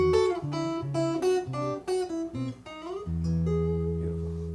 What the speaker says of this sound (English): that's sending one signal direct to this acoustic amp, California Blonde, which is the acoustic sound you're hearing